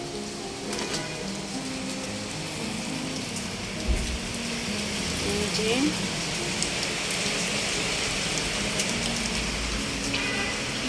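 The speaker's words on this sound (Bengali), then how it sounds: "বৃষ্টি বৃষ্টি" Heavy rain pours steadily outside a house, a dense, even hiss that lasts throughout, with a brief spoken word partway through.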